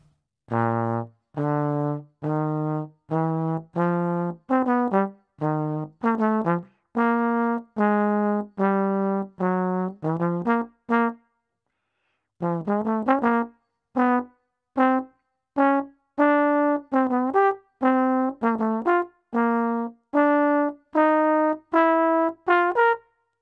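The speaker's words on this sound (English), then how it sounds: "play a solo on rhythm changes based purely on the cliche voice leading patterns" A solo jazz melodic line over rhythm changes, built on cliché voice-leading patterns, plays in quick, swinging phrases with a brief pause midway, bright and close, with no accompaniment evident.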